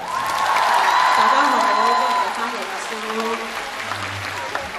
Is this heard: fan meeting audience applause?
yes